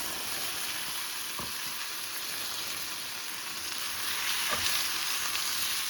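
Eggplant pieces fry in a pan with a ground cilantro paste, giving a steady, close sizzle with a couple of brief stirring scrapes and a slight rise in intensity near the end; no one speaks.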